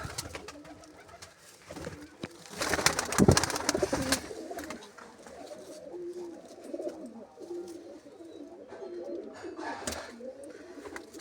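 Pigeons coo softly in repeated low, throaty phrases nearby, with a burst of fluttering rustle partway through.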